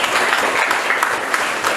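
Audience applause for the late Malayalam actor and singer, steady close clapping filling the whole moment without pause or talk.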